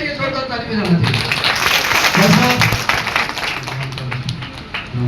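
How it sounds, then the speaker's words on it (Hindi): An audience at a motivational talk claps loudly and continuously, full applause close up, with a voice speaking over the clapping. "एक बार फिर के लिए जोरदार ताली बजाना चाहिए।"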